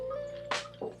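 Aquarium water drains into a sump after a valve is opened, heard as two short wet gurgling splashes over a steady low pump hum, close and quiet.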